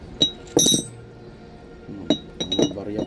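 Glass bottle contents clinking as they are moved into a new container after the bottle broke, a few sharp ringing clinks in two clusters, close and clear, with quiet gaps between and no talking.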